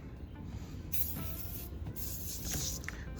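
Foaming cleaner hisses from a spray can onto a vehicle exhaust pipe in a few broad, noisy bursts over a steady background rumble.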